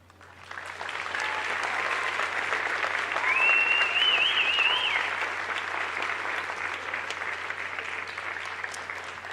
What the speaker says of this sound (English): If we could just have another round of applause for all our winners and all our nominees tonight.